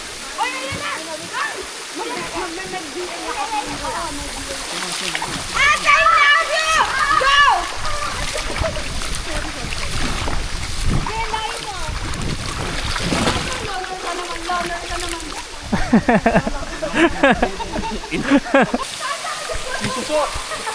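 Water churns and splashes beneath a waterfall where friends swim, a steady rushing wash with bursts of splashing, while people talk and shout over it throughout.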